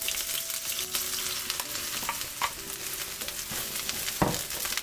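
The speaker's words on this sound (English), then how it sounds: "I like frying the eggplant because that gives an extra flavor to it." Continuous sizzling of eggplant frying in hot oil in a pan, with occasional clinks and scraping of a utensil stirring the pan.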